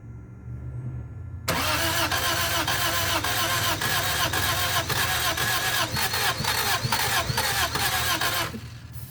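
A 1978 Honda Civic that has sat unused for 26 years cranks over continuously on the starter for about seven seconds, a steady rhythmic churning that begins abruptly and stops, loud and close, with no speech.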